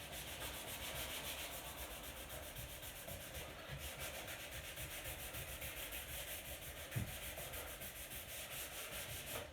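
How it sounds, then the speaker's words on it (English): Steady, continuous scratchy rubbing of sandpaper on a wooden dining table by hand, close and even in rhythm, with one brief knock partway through. "I know I said I wasn't going to be sanding this loads."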